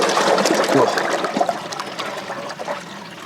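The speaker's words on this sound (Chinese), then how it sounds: "继续加清水稀释。" Clean water pours and gushes into a tub of phellodendron bark powder to dilute it, a loud, rushing splash that slowly eases to a softer trickle.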